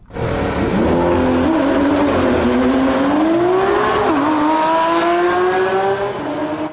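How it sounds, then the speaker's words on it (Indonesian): A Lamborghini engine revs loudly up close, the pitch climbing and dipping through several sweeps of acceleration over a sustained roar. "Yang ini mobil Lamborghini"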